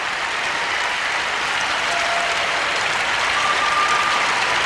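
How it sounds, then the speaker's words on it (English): Lukewarm applause from the arena audience at the 1994 Lillehammer Olympic figure skating ladies' technical program, a steady, even wash of distant clapping that holds without swelling or breaking. "rather lukewarm applause from the audience"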